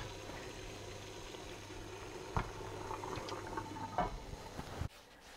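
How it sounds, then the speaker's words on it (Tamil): Water in a pot for steaming kozhukattai starts to boil, giving a steady bubbling hiss with a low hum beneath. A few sharp knocks and clinks come through close by before the sound cuts off abruptly near the end. "இது தண்ணியும் பார்த்திங்கன்னா இந்த நேரத்தில் நல்லா கரெக்டாக தலை கொதிக்க ஆரம்பிச்சிருச்சு."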